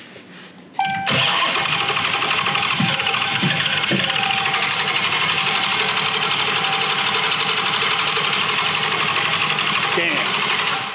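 Widebody Dodge Challenger Hellcat Redeye engine cranking at first start after a complete teardown, low on fuel: a loud, sustained whirring starter churn with a rhythmic chugging pulse that continues for about ten seconds without catching, close by.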